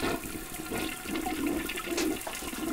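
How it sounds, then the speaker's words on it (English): A household toilet flushing close by, a steady rushing gush of water with gurgling that holds for nearly three seconds without any voices. "I forgot you were in there. I didn't mean to flush."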